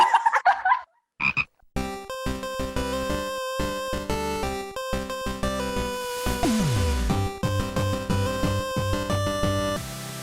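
Frog croaks sound close and loud over a dense, continuous musical jingle lasting about ten seconds, with a few brief vocal-like calls at the start.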